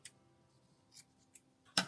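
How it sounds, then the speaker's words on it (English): Scissors give a few quick, sharp snips while trimming the excess yarn tail from a snowflake weaving, each cut short and isolated in a quiet room, the last snip loudest. "And then you can trim off the little bit of extra."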